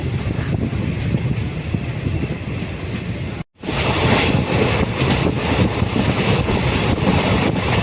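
A passenger train running between Trichy Junction and Tambaram gives a loud, steady rumble with wind rushing past, broken once by a brief sudden drop out before the roar resumes.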